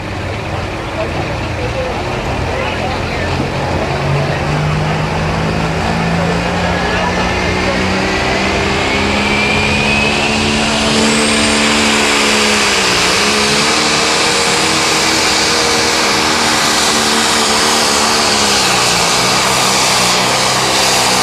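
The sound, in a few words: pro stock tractor engine during tractor pull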